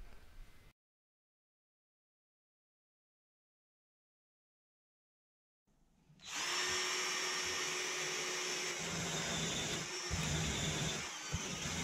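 Cordless drill fitted with a fastener bit and mounted in a 45–90° angle drill guide, starting up after a stretch of silence and running at a steady whine for about six seconds, close and loud.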